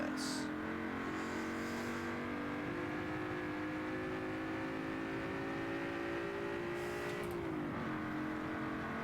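A Ferrari race car in Forza 7 crosses the finish line, its engine a steady, loud high-pitched drone that holds an even note and then dips briefly near the end.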